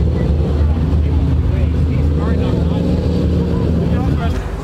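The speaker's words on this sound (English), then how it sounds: "Can we hear that? Oh, got a Corvette tonight." A Corvette engine rumbles at a weekend car show, a loud, steady low throb close by with slight wavering, continuing throughout with background crowd noise.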